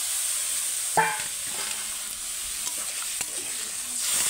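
A spoon stirs prawn and banana stem curry in a pan: scraping strokes over a steady, soft sizzle, with a sharper clink near the start and a few light knocks.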